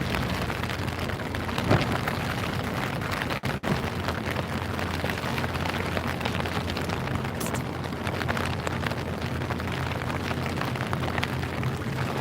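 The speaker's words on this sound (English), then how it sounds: "it's raining enough that the concrete's starting to get wet" Steady rain falling on outdoor concrete, a dense continuous hiss of drops close by with no talking and one brief dip in the middle.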